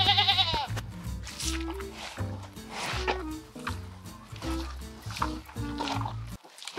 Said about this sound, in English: While Mr. Gorilla was asleep, a sheep wandered away.